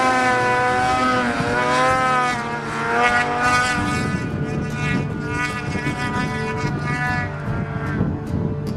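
An 800 snowmobile in powder snow roars past, its engine whine rising and falling as it comes near, then fading into a rougher, steady drone.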